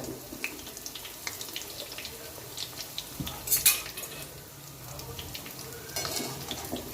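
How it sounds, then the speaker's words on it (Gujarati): Sev rolls frying in oil over a medium gas flame, a steady close sizzle and bubbling with occasional metallic clinks of a utensil against the pan, no talking. "મીડિયમ ગેસ પર એને આપણે તળવાના છે"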